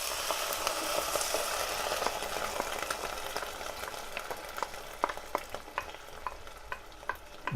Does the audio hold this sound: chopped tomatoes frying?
yes